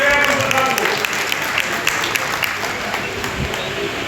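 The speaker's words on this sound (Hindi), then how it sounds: "यह स्थिति है तो सारे तालियां बजा दो एक बार" An audience claps at an Agrawal Vaishya community gathering, a dense, fairly loud wash of applause that runs steadily throughout, with a voice talking over it.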